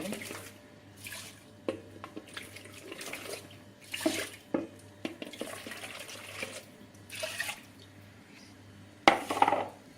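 Water splashes and trickles into a pot in short bursts as lentils are rinsed, with light clinks and a quiet voice in the background.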